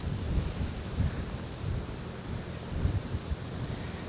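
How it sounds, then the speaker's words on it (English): Strong wind gusts buffet the microphone outdoors beside a pond, making a continuous low rumbling roar with irregular surges and no voices. "Oh, very windy."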